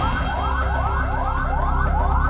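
An ambulance siren wails in a steady, repeating rising-and-falling pattern, loud and close, in street traffic on a road in Parengan, Indonesia; no voices.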